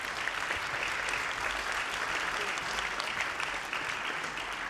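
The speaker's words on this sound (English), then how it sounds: "if we could just raise our hands and have a round of applause for Fabricio for a fascinating discussion." A conference audience at RAISE 2025 claps steadily and densely throughout, a full round of applause with no voices rising above it.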